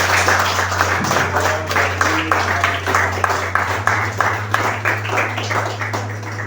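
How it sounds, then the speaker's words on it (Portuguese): A church congregation claps together in a steady, rhythmic stream over a constant electrical hum, with the applause continuing evenly throughout. "Uma salva de palmas ao Senhor Jesus."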